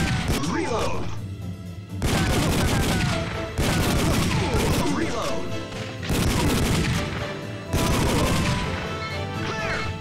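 Time Crisis gunshots on a PS1 emulator come in repeated loud bursts of rapid firing, separated by short gaps, with clattering impacts between volleys.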